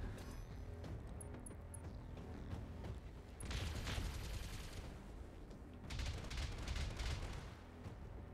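Mech turrets firing in the Battletech video game, heard as dense rapid bursts of gunfire in two louder volleys over a constant low rumble, fairly distant and muffled.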